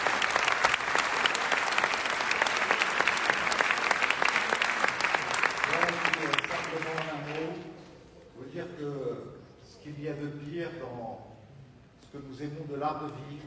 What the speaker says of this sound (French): Donc je vous demande de les applaudir et de les remercier